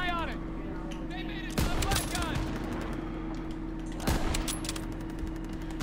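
Sniper rifle shots in Call of Duty, fired from a clock tower, with two sharp loud cracks about two seconds apart over steady game ambience and music.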